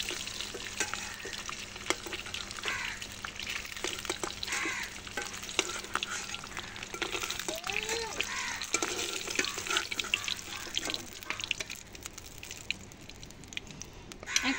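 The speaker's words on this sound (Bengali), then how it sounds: "ডিমগুলো ভাজা হয়ে গেছে, এখন আমি নামিয়ে নেব" Eggs frying in hot oil, a steady close sizzle and crackle with frequent spatula scrapes and stirring clatter, continuing throughout without talk.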